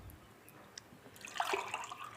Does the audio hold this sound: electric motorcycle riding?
no